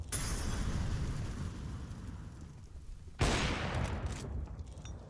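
A sudden loud burst of gunfire erupts midway through a Counter-Strike 2 match, the shots ringing out sharply against a low background rumble.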